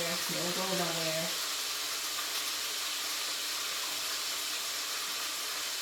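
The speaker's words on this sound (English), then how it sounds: "I'm gonna just pour this water off of y'all" Water poured off fries drains into a sink with a steady hissing rush that runs the whole time, while someone talks briefly over the opening moment.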